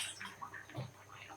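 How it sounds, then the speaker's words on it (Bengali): Water sloshes and splashes softly inside a cooking pot as it is rinsed by hand, a faint, close, irregular swishing over a second or so. "একটা পাতিল সুন্দর করে ধুয়ে নিচ্ছি"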